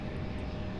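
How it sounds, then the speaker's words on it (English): Mesa Airlines CRJ 700 regional jet taxiing at an airport, a steady engine drone with a broad roar, heard at moderate distance for a brief moment. "you see that Mesa Airlines CRJ 700 taxiing"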